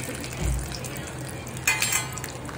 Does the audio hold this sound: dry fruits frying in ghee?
yes